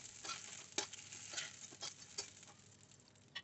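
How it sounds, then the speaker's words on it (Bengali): Diced onions frying in mustard oil in a pan, a faint continuous sizzle broken by a few soft scraping clicks of a spatula, quiet with no speech. "এবার ওই তেলেই আমরা দিয়ে দিচ্ছি ডুমো করে কাটা পেঁয়াজগুলো। হালকা করে ভেজে এটাও আমরা তুলে নেব।"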